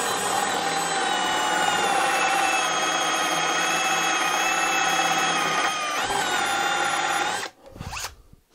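A drill with a Forstner bit bores steadily into wood for about seven seconds, a loud continuous high whine, then winds down and stops with a brief rattle at the end.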